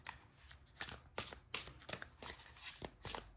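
Tarot cards being shuffled by hand, a series of crisp papery riffles and slides in irregular bursts, close and fairly quiet with no talking.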